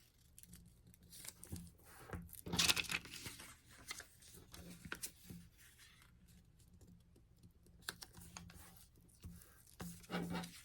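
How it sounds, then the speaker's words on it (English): Paper seed packet being folded by hand, sides tucked in, giving soft intermittent rustles, creases and crinkles, close and fairly quiet, with no talking. "So, we're going to fold the sides in first"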